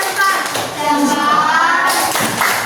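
A classroom of children claps along with a rhythmic applause chant for a student group, quick hand claps and taps layered under their voices, loud and close.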